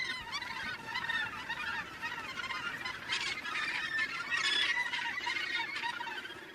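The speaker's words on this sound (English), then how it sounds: "Just every little available space is taken up with gannets." A crowded gannet breeding colony with nesting birds packed into every available space, giving off a dense, continuous chorus of harsh overlapping calls that rises and falls without pause.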